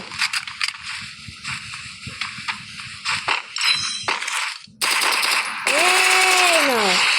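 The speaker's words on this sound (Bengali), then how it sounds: "তো যাও, এবার আমি উডপিকার খেলে দিয়ে ডেজার্ট দিয়ে হেডশট মারার চেষ্টা করবো।" Desert Eagle pistol gunfire in a Free Fire-style shooter match, a burst of sharp cracks and rattling shots over game noise, followed by loud swooping effects and chimes.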